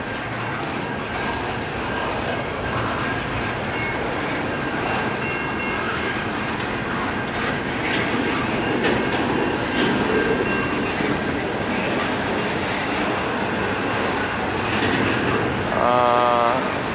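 Norfolk Southern freight train rolling past at close range, a continuous loud rumble of wheels on rails with clickety-clack and a brief horn-like tone near the end, no talking.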